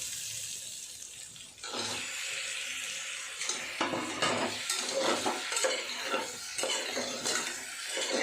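Chicken pieces go into a pan with frying spices for a stew, a quieter sizzle first, then a louder wet crackle with repeated scraping and clattering stirs, close by and without speech.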